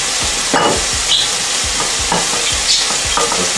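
Onion frying loudly in a hot pan, a dense steady sizzle close up, with rhythmic stirring strokes thumping and scraping roughly twice a second.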